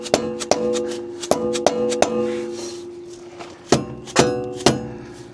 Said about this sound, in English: So by hammering on the nut, it should be better.